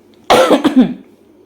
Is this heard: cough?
yes